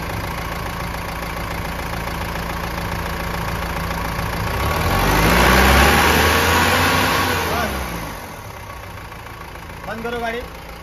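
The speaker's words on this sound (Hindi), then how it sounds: "तो देख सकते गाड़ी स्टार्ट हो गई अपनी" A Mahindra Bolero BS4 with an injector problem idles after starting, a steady close engine hum that swells briefly in the middle and settles again, with faint background noise.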